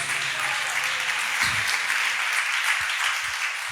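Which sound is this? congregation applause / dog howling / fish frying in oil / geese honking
congregation applause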